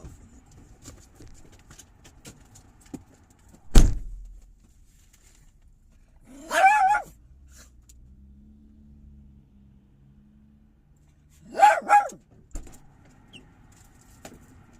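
A dog gives two short bursts of barking, a few yelps each, with a sharp thud and quiet stretches between them and faint background noise.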